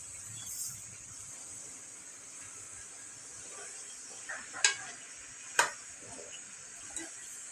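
Mixed vegetables with sesame seeds are stirred in a pan with a faint, steady hiss of cooking and a couple of sharp scraping clicks from the spoon.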